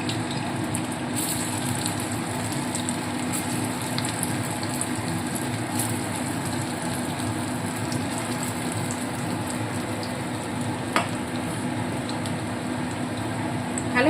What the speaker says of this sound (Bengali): তেলটা খুব ভালো মতো গরম হয়ে গেছে তো এবার এক এক করে তৈরি করে রাখা মুইঠাগুলো আমি তেলের মধ্যে দিয়ে লালচে করে ভেজে তুলে নেব